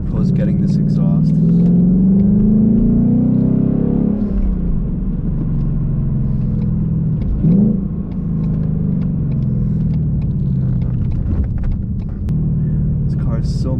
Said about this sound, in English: Hopefully the GoPro is getting this exhaust.